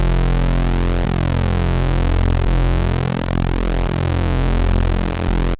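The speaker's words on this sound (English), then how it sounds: "I want to detune the oscillator A for a fatter sound." Thick, detuned Reese bass patch from the Serum synth, a sustained buzzing low tone with slowly shifting phasing and warp movement, loud and continuous alone for several seconds before cutting off abruptly.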